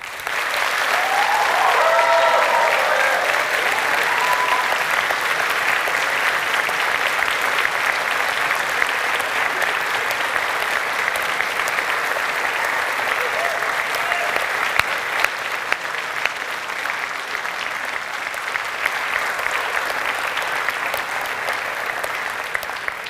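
A large audience at a University of York graduation ceremony applauds continuously and loudly for over twenty seconds, a dense wash of clapping with scattered cheers and a few voices near the start.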